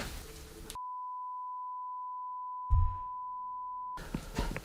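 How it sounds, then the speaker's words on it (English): A long, steady censor beep, a single pure tone held for about three seconds, covers swearing, with bursts of other sound just before and after it. "Brother, what could you possibly have said for a beep that long?"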